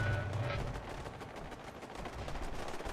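Dense gunfire and explosions from a modded Fallout 4 playthrough, a sustained roar of overlapping shots with heavy low rumble, steady and loud throughout.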